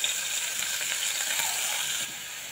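Onion and green chilli sizzle in hot oil alongside fried koi fish, giving a steady, crackling fry with light stirring scrapes, close and continuous.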